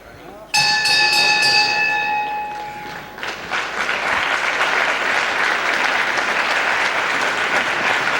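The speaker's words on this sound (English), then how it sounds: "Right on the bell." A wrestling ring bell clangs loud and ringing at the end of a round in a 1980s British televised bout, its tone fading as a large crowd breaks into steady applause that carries on to the end.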